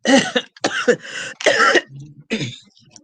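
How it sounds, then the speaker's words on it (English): A person coughs several times in quick bursts, harsh and close, with short pauses and a throat-clearing sound between. "Coughing on this cough."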